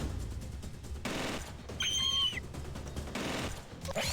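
Bursts of gunfire from the video game Stellar Tactics, a rattling fusillade in several loud stretches with a brief electronic beeping tone in the middle.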